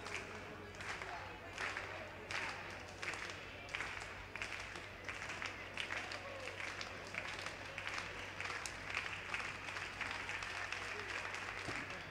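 Spectators clap a steady rhythm at an indoor athletics championship, backing a long jumper on the runway; regular claps repeat over a continuous crowd hum for the whole stretch.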